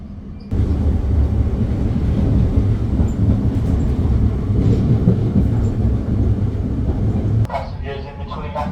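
London Underground train running between stations on the line toward Acton Town, a loud steady rumble and rattle of the carriage that drops away near the end as a voice briefly speaks.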